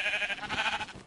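Sheep bleat in a video game, a short wavering bleat or overlapping bleats heard close and fairly loud on their own, with no talk over them.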